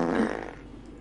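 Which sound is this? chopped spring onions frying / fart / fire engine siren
fart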